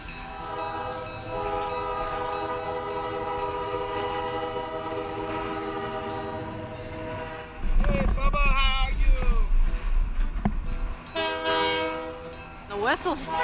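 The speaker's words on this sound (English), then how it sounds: "Some people maybe can't stand that much train whistles" A train horn sounds from the James E. Strates Shows carnival train, with sustained whistle blasts over rumbling rail noise, fairly near, and a voice talking over part of it.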